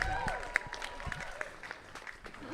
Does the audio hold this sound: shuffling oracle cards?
no